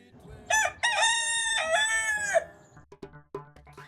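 A rooster crows loudly and close on a climate-smart farm, one long drawn-out cock-a-doodle-doo, followed by softer clucks and farmyard noises.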